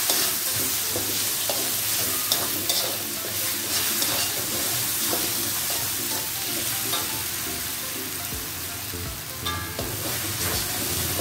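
Sambal with dried small shrimp (udang rebon) and a little white sugar stirred in a frying pan, a steady loud sizzle with scraping stir strokes throughout, no voices.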